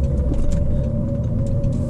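A 2011 Audi R8 Spyder drives on the road, heard from inside as a loud, steady engine drone with road rumble and a sustained mid-pitched hum, no talking.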